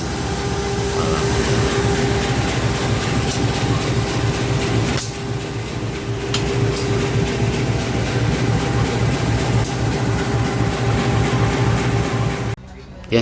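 The Tawang Alun train pulls out of Jember station, a steady rumbling roll of the carriages with a low hum, with a voice talking over it now and then before the noise drops away at the end.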